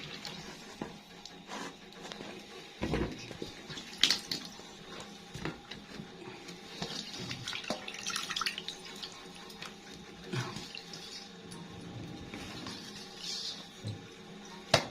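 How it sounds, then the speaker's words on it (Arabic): Hot water drains from pickled turnips into a bucket, a steady close trickle and splash with occasional louder sloshes and drips, and no speech. "شوفوا الميه قد ايه اللي نزلت منه، شوفوا عامله ازاي"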